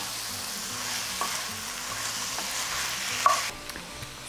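Lamb meat browning in a pot for lamb and pea stew, with a cinnamon stick and bay leaf added, gives a steady close sizzle and frying hiss, stirred now and then with a few soft clinks.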